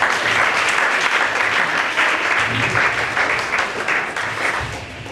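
Sustained applause from a congregation at a church prayer cell meeting: steady, dense clapping that keeps up for the whole stretch, loud and close, with a little faint voice mixed in.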